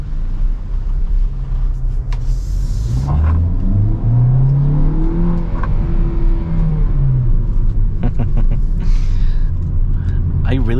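A 2022 Hyundai Venue SUV with IVT transmission accelerating in sport mode, engine note steadily rising and sweeping in pitch from inside the cabin, with a driver talking over the drone.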